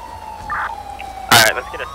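A police siren wails in the game FiveM, its tone sweeping steadily, with a louder burst of noise and brief sounds layered over it.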